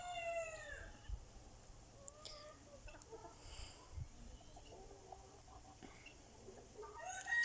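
Chickens cluck and murmur softly in short scattered bursts as a broody hen is moved in with the other hens, with a brief crowing call at the start and quiet background ambience.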